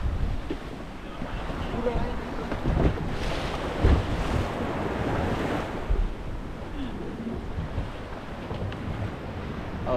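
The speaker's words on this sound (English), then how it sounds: "They're checking the waves also. There's a big wave coming." Ocean waves surge continuously around a small fishing boat off Negombo, Sri Lanka. Wind buffets the microphone, and the wash swells louder at moments as a bigger wave rolls through. No voices are heard.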